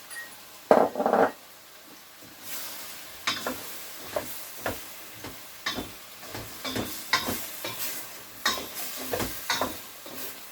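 Carrots tumbling into a pot of vegetable fish soup, a sharp splash and sizzle at first, then a run of brisk scraping stirs and clinks against the pot in an uneven rhythm, close and moderately loud.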